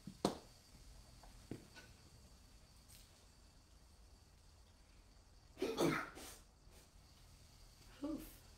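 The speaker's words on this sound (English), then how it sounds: "All this seasoning got me sneezing." A close, loud sneeze triggered by seasoning while cooking in a home kitchen, heard mid-clip after soft clicks and breaths, with a smaller follow-up snort near the end.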